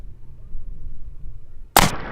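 A single close, sharp gunshot from a 277 Wolverine firing a 175 grain subsonic bullet over 11.7 grains of Shooter World Blackout powder, cracking out suddenly after quiet outdoor background.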